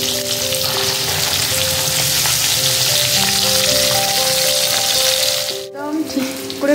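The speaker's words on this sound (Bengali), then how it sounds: "আর এই যে আলু বেগুন ভাজছি" Potatoes and eggplant frying in hot oil, a loud, steady sizzle with crackling that runs almost unbroken, dipping briefly near the end as something is stirred or moved.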